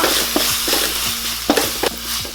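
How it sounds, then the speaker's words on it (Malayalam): Tomatoes frying in a pan with red chilli powder, stirred repeatedly, giving a steady close sizzle broken by soft scraping strokes of a spoon, with no voices. "ഇനി നമുക്ക് നല്ല തക്കാളി ആഡ് ചെയ്യാം. ഒരു 3 മിനിറ്റോളം നമ്മൾ ഇളക്കി കൊടുക്കുക."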